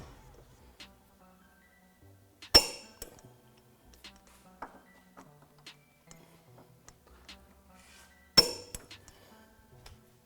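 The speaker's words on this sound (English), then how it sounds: "we're going to tighten these to 129 foot-pound" Tools clink and tick against metal while suspension bolts on a 2018-2023 Mustang are torqued to 129 foot-pounds, with sparse sharp metallic clicks and two loud bright snaps standing out against near silence.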